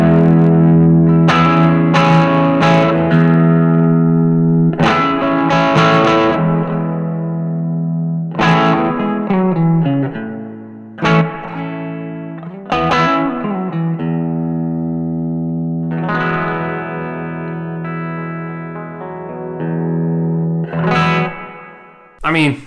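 A Maybach Teleman T54 electric guitar played with gain, a run of overdriven chords and picked riffs with ringing sustains and pauses, loud and close with no talking.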